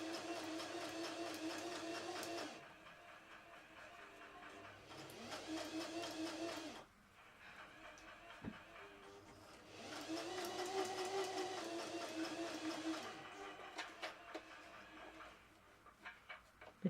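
A sewing machine stitches a zip into fabric in bursts of fast, buzzing mechanical whirring, separated by quiet pauses with small clicks and handling sounds, close by and fairly faint.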